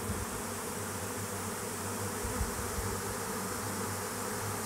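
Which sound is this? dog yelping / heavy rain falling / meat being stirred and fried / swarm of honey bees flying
swarm of honey bees flying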